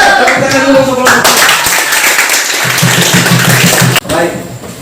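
A classroom group claps for student presenters during a teacher training session, close and fairly loud, with voices talking over the clapping and a sharp break near the end.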